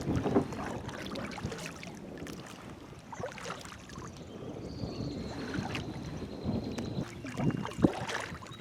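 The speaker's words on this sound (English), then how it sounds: "man, is that headwind is really strong. You're probably hearing it on the microphone." Strong headwind buffets the microphone on a kayak out on Pine Lake, a steady close rumble with gusty swells, mixed with faint paddle splashes and water movement.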